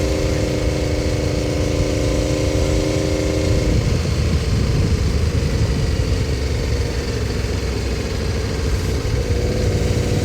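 Motorcycle engine with a Supertrapp exhaust droning steadily while riding, a loud, continuous low rumble with a shift in pitch partway through, heard up close with no talk.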